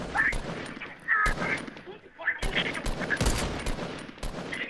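Sniper rifle shots from the Fortnite video game crack out as several sharp, loud bursts spread across a few seconds, mixed with game sounds while people talk over them.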